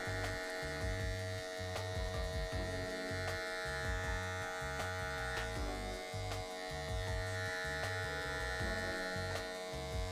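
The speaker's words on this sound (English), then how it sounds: "So again, 0 on the clipper, head forward so we're not having to scoop in" Electric hair clipper set to zero buzzing steadily as it trims hair at the back of a man's head during a haircut, a close continuous hum with small changes in pitch as it moves, no talking.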